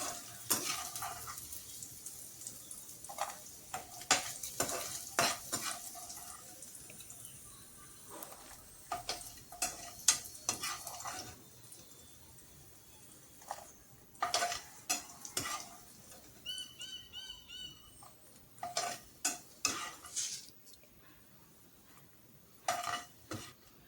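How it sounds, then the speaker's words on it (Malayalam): Pieces of food being fried dry in a pan, with repeated scraping and clinking stirring strokes in uneven bursts over a soft background sizzle, close and moderately loud, with no voices. "അങ്ങനെ ഓരോ ട്രിപ്പ് ഞാൻ ഫ്രൈ ചെയ്തെടുത്ത് കുറച്ച് ഞാൻ ഡ്രൈ ആക്കി തന്നെ നന്നായിട്ട് വറുത്താണ് എടുത്തേക്കണത്"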